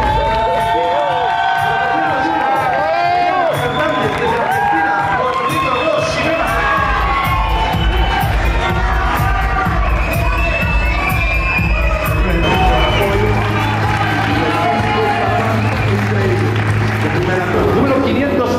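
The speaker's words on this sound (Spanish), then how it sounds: "Todo el mundo gritando, alentando," A large crowd at the Mr. Olympia bodybuilding show shouts, cheers and whoops loudly and continuously, with many overlapping voices and scattered applause filling the hall.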